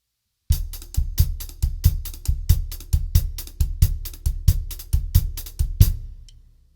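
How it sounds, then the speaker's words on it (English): Samba sticking on a drum kit hi-hat over a bass drum, a quick, steady run of crisp accented hits and low thumps that stops after about five seconds and rings out. "So I'll play that sticking for you on the hi-hat, all right? If you're going to add your bass drum,"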